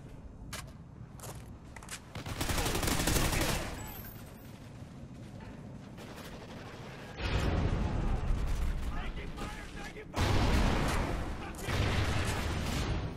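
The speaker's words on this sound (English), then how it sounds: "I feel like this is one of the most OP guns in the game, the Honey Badger. It melts people with a built-in silencer" Suppressed Honey Badger assault rifle fire in Call of Duty, with dense bursts of muffled shots and explosive game noise coming in several loud waves over a busy background, with a voice talking throughout.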